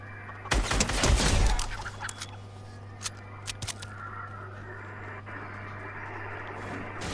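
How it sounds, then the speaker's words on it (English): Gunfire from players in a video game rings out as a dense burst of rapid shots, followed by a few scattered single cracks at a distance over a steady low hum. "I could hear people shooting"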